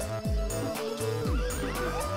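A horse neighs in the video game Party Hard, a loud close whinny with a falling, wavering pitch that repeats through the short stretch, and no talking.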